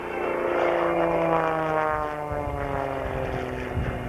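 An aerobatic propeller airplane at the 1993 Dayton Air Show drones steadily overhead, its engine pitch sliding as the plane maneuvers, loud and continuous with no voices.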